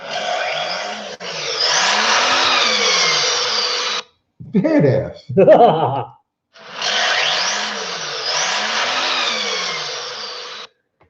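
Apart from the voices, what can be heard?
turbocharged six-cylinder truck engine revving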